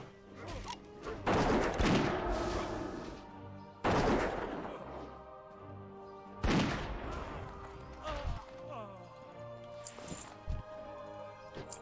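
Gunfire from a dwarf hunter's gun in World of Warcraft Classic, four loud sharp shots spaced a few seconds apart, each with a ringing decay over steady game music and background effects.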